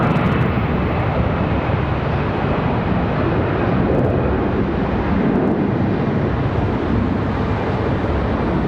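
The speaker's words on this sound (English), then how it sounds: "And the A321 departure." Airbus A321 jet departing Charlotte Douglas airport, a broad continuous engine roar with wind-like rush that holds loud and steady from start to finish, no voices.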